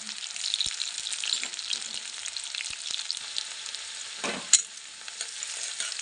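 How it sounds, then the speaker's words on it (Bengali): Chopped onion fries in mustard oil with black cumin seeds, giving a steady close-up sizzle with small crackles and a brief louder spit near the end. "পেঁয়াজটা একটু ভাজা ভাজা হয়ে গেছে"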